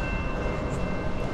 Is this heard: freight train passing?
yes